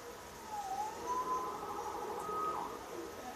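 A faint siren wails in the distance in the video game Marvel's Spider-Man, rising and falling over a soft background hum.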